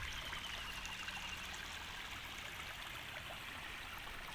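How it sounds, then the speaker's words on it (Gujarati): Water from a dam on a village river pours and rushes in a steady, continuous stream, a broad even wash of flowing water with no pauses, moderately quiet and heard alone without talk. "તમે જોઈ શકો છો કેવું નીર પાણી જાય છે."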